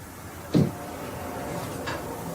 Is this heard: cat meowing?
no